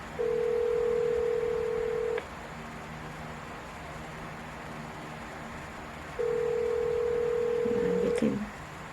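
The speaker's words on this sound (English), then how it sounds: "Me go call Jamilio" Telephone call tones: a steady dial or ring tone sounds for about two seconds, drops to hiss during a pause, then returns for another two seconds before a brief click and rustle, with no talking.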